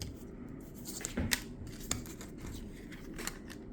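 Quiet papery riffling and snapping of a board game's card deck being shuffled, with a few sharper crisp flicks standing out against a soft, steady background.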